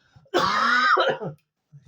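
A single loud, close throat-clearing cough, a raspy burst lasting about a second, then quiet.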